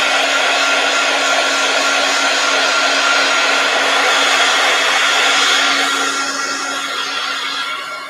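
A handheld heat or hair dryer blows steadily on a piece of handmade greeting card, a loud, close, continuous whooshing whine that tapers slightly near the end.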